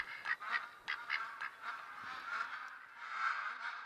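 Ducks in New Zealand give repeated honking, nasal calls, several in a row at moderate distance, irregular and overlapping, with no talk.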